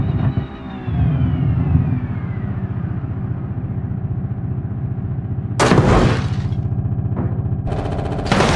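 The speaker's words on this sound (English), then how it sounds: "Who the hell is firing a machine gun?" In the BeamNG.drive driving game, bursts of machine-gun fire crack out sharply over a steady engine drone, a couple of loud short volleys arriving late in the stretch.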